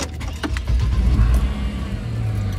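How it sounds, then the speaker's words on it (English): A truck engine starts and settles into a low, steady idle rumble, close by and moderately loud, on a hot, humid day, with a few faint mechanical clicks early on. "Get the truck started, get this AC on."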